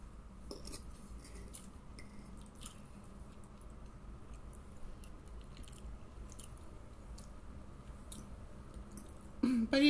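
Buckwheat eaten during a mukbang, with quiet close chewing, soft squishy bites and light clicks of cutlery against a dish over a low background hum, ending in a louder clatter.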